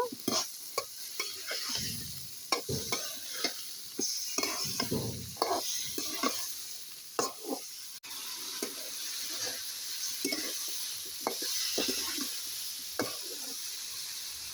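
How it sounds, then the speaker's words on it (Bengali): Vegetables being stir-fried in a pan give off a steady sizzle, broken by repeated scraping stirs and clanks of the spoon, close and loud, with no talking. "এখন এটা ভালোভাবে কষাবো"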